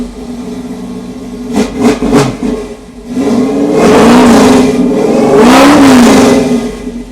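A Ford Mustang engine turns over and catches, revving in a couple of short bursts before settling into longer, loud rising-and-falling revs close by.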